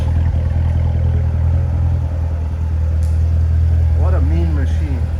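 Steady low rumble of a 2019 Chevrolet Corvette Z06 3LZ Z07 in Arctic White idling at the rear, a loud continuous exhaust drone with a brief rise near the end.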